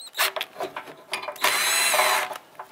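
A hand ratchet clicks as bolts are started on the front bumper impact absorber of a 2014-2021 Mazda 6, with short bursts of ratcheting and one longer steady run of close, bright clicks.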